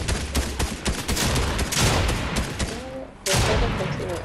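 Rapid, loud bursts of gunfire in the video game Fortnite crackle almost nonstop, with a short pause near the end before the shooting resumes, while players talk over it.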